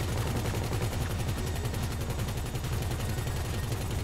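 Rapid gunfire in GTA Online rattles out in dense, steady bursts of repeated shots, loud and continuous throughout, with no voices.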